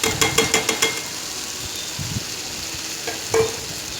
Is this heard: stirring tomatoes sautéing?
yes